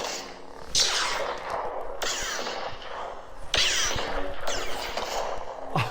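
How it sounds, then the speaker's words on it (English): A Neopixel lightsaber styled after Obi-Wan Kenobi's stunt saber gives off a humming buzz broken by sharp crackling blaster-deflect bursts, which repeat roughly every one to two seconds with zapping sweeps and no talk. "Check out the blaster deflect."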